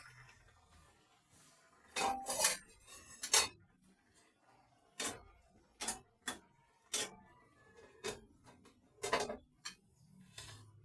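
Lid going back onto a pot of tuna wrapped in vegetables cooking in coconut milk, a few sharp metallic clanks and clicks scattered across a quiet background, close, no talk.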